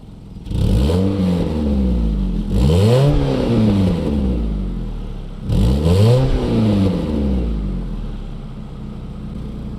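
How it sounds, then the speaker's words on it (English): A 2002 Mitsubishi Lancer engine revs hard three times, each rise sweeping up in pitch then falling back, with a steady idle rumble between bursts. "let's rev this baby"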